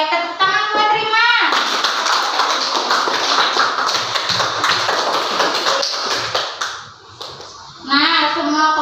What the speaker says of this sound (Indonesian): tepuk tangan buat Rima